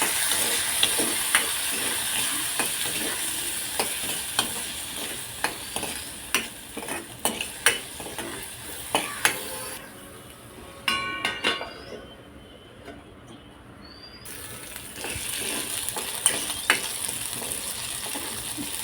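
Carrots and corn kernels cook with asafoetida and cumin seeds in a pan, with repeated sharp clinks and scrapes of a stirring utensil over a low sizzle. The sizzle drops to near quiet midway, then returns.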